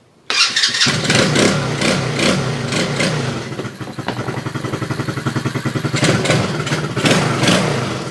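A TaoTao ATV engine cranks and catches, then runs loud and close at a steady, rapidly pulsing idle with rattly clatter and a brief rev near the end.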